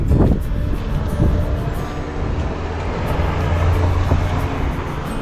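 Strong wind on a mountain road roars continuously against the microphone, a dense low rumble with gusty swells and no voices.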